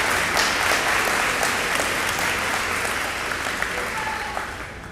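Steady, dense applause from an audience at a school athletic banquet, filling the room at an even level for the whole stretch and tapering slightly toward the end.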